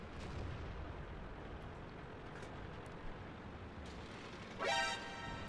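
Artillery fire in the World of Tanks video game lands as one sharp, booming blast near the end, standing out above a low, steady engine rumble with no talking.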